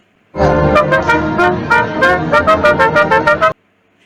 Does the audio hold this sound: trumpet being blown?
yes